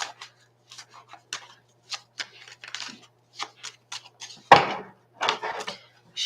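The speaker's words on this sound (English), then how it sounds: "Shuffle one more time." Tarot cards being shuffled by hand, a series of short crisp riffling bursts in an irregular rhythm, close and fairly quiet with no talking.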